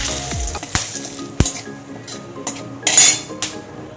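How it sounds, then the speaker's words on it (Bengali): White cumin seeds, torn dried red chillies and a bay leaf fry in hot oil with a soft sizzle underneath. Sharp metal clanks of a spoon against the pan cut through at close range. "যেহেতু চিংড়ি মাছ দিলাম ওর জন্য সাদা জিরে ফোড়ন দিচ্ছি দেবো দুটো শুকনো লঙ্কা ছিঁড়ে দিলাম"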